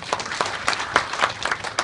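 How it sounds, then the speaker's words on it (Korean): Seminar audience at a real-estate investment lecture clapping, a brief burst of distinct claps with a moderate crowd, in rhythmic, slightly uneven bursts in a room. "박수 한번 쳐주시고 고맙겠습니다."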